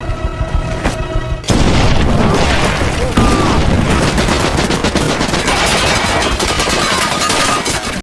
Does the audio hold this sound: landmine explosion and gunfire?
yes